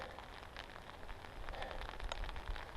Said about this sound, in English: I've had it with all this rain.